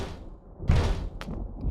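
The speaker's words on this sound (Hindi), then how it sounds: "अचानक महल के दरवाजे पर किसी ने खटखटाया।" A visitor knocks on a palace door during a stormy night in an animated fairy tale, giving a couple of solid wooden thumps close by against a low background.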